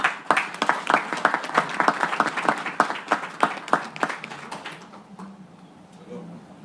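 An audience at a conference panel on religion and global cooperation claps in a burst of distinct, fairly close hand claps that tapers off after a few seconds into quiet room tone.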